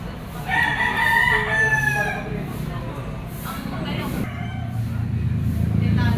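A yellow-legged bullstag gamecock crows once nearby, a long clear call at the start, with other fowl clucking faintly at an outdoor rooster market as someone talks throughout.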